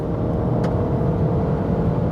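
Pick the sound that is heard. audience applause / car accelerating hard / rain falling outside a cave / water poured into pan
car accelerating hard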